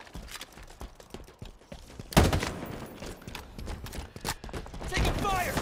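Gunfire in Halo Infinite multiplayer on Xbox Series S, with dense bursts of shots and a sharp loud volley partway through, mixed with game effects and a voice calling out.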